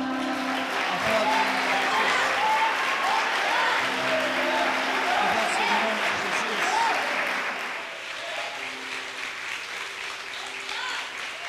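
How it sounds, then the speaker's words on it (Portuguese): A church congregation at a youth congress applauds the name of Jesus, a loud continuous wash of clapping with voices and sustained tones underneath, fading a little near the end. "Aplauda o nome de Jesus"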